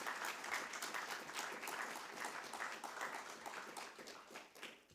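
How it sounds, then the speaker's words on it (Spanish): Applause from an audience at a book launch about the wooden churches of Chiloé, steady, dense clapping held at a moderate distance throughout. "un aplauso para ella"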